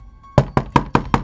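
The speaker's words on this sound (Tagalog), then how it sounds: "Gabing-gabi na kumakatok." Five sharp knocks on a door late at night, evenly spaced and close, with no voices.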